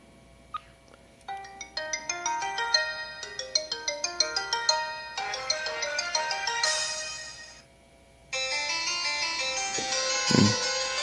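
A Pantech Ease phone plays musical ringtone jingles, bright synthesized melodies of quick plucked notes that change tune partway, pause briefly, then resume with a fuller chiming pattern, loud and close.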